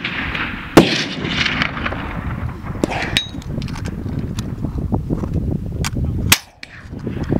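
A kids' rifle fires shots at steel gongs outdoors, giving several sharp cracks spaced irregularly, each followed by a brief metallic ring, with quiet rustling in between and no talk.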